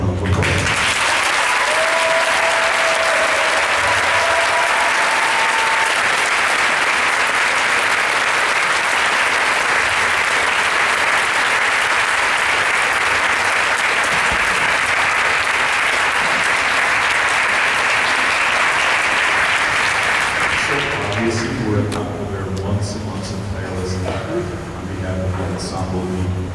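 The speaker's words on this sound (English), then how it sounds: "We give them a special round of applause." A large audience gives a sustained round of applause for the section leaders of the TCMB marching ensemble at a spectacular-style show. The dense clapping runs for about twenty seconds, then fades as other sounds take over.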